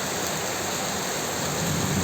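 Steady rain falls after intense heat, a dense even hiss of drops on grass and ground, continuous and close with no voices.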